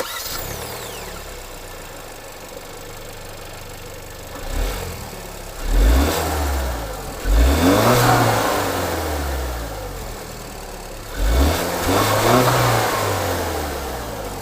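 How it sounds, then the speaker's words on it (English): Turbo GDI engine of a 2019 Hyundai Santa Fe idling under the hood, then blipped through several sharp revs that rise and fall back to idle, heard close up. "Now, under the hood is the turbo GDI engine."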